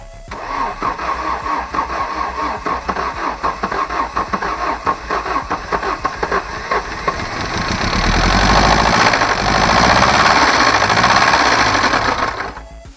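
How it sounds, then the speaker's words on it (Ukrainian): Worn ZAZ Tavria car engine with no oil pressure knocks hard: a fast, loud, regular metallic clatter close by, then rising into a louder, smoother revving roar before easing off. "Тиску мастила нема і двигун стукає. І стукає доволі сильно."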